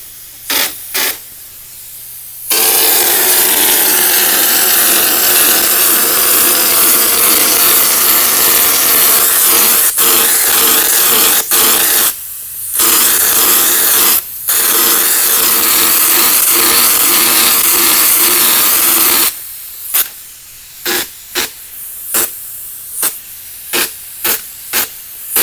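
A loud, steady pneumatic hiss of a texture spray gun spraying orange peel texture on drywall runs in long bursts, broken by brief pauses, then short choppy spurts near the end.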